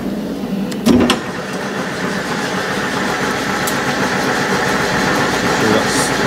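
An out-of-balance crankshaft assembly spins up with its clutch bolts removed, giving a steady mechanical whir and rumble that builds and holds near the listener, with a brief clunk early on.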